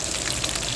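Fenugreek seeds sizzle in hot oil pushed to the side of a pan of sautéed onions and okra, giving a steady, close hiss of frying with fine crackling throughout.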